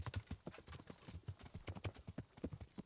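Horse hooves clip-clop steadily in Kingdom Come: Deliverance, a brisk regular rhythm of close, crisp hoofbeats with no talking over them.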